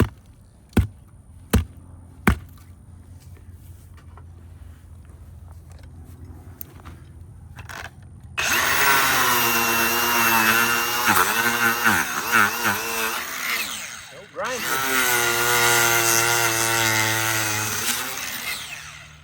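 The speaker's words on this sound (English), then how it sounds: "That old cutoff wheel is pretty handy." A cutoff wheel grinds through a pipe near a doublecheck valve, loud and continuous for about six seconds, then pausing briefly before a second long cut, with a few sharp knocks beforehand and no talk.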